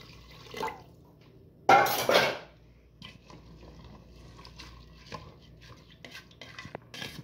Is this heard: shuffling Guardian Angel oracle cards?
no